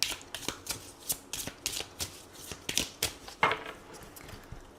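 Oracle and tarot cards shuffled by hand close up, producing a rapid series of crisp riffling and slapping bursts in an even rhythm with no talk.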